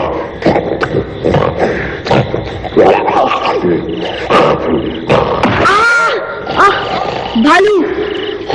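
A cartoon bear growls and roars loudly in repeated bursts over a jungle scene, mixed with voices talking throughout.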